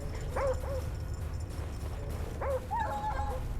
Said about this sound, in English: I hear the dog cry, and I'm thinking somebody's just killed one of my attack dogs